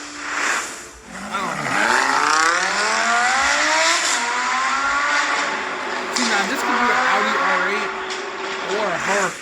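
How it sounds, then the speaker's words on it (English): A Lamborghini Huracan engine revs loud and close, its pitch rising and falling in repeated sweeps for several seconds, while a voice talks over it. "Oh, okay, it's a Huracan."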